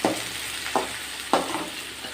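Three short scraping stirs of ridge gourd stir-fry with lentils in a hot pan, spaced about half a second apart, over a steady low sizzle. No voices.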